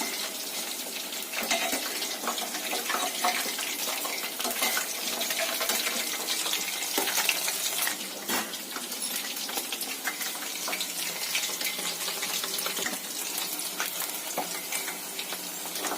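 Mushrooms frying in oil for a Tamil roadside kaalan mushroom gravy give a steady, dense sizzle with fine crackling that holds evenly throughout, with no voices.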